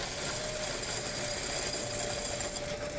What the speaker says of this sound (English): this coin machine works so much better